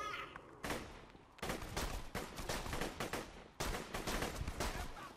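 Repeated bursts of gunfire from the video game Borderlands, loud and dense, in several rapid volleys with short gaps between them and no talking over it.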